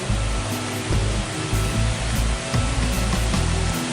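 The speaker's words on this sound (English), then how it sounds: "Do a lot of grass cutting. You can hear that in the background, I guess." Grass-cutting machine running in the background at a campground resort near a creek, a steady broadband motor drone with low rumble and faint fluctuations, continuous throughout without talk.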